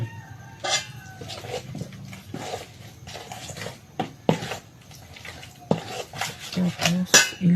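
A spoon stirs mashed banana with a little milk in a bowl for banana fritters, giving repeated close clinks and scrapes against the bowl in an uneven rhythm.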